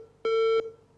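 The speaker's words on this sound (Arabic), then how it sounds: "كده هيفو قطعت الاتصال" A single steady electronic tone sounds for about a third of a second on a phone line as a caller drops off during a live call-in TV broadcast.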